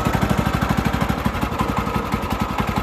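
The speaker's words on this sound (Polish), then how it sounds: "Odpalam piłę, oczywiście muszę włączyć sobie ssanie, bo piła nie pracowała jakiś czas." A chainsaw engine, choke engaged after sitting unused for a while, fires up and runs with a steady rapid two-stroke chug, loud and close, no talk over it.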